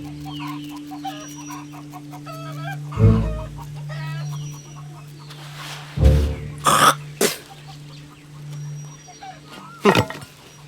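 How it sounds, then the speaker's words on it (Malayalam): Several short clucks from a chicken near crop fields, with a low steady hum underneath and a few sharp louder bursts like coughs or throat clearing in between. "ഈ കള്ള കോഴി എല്ലാം കൂടെ നമ്മുടെ വിളയെല്ലാം കൂടെ തിന്നോണ്ട് പോകും"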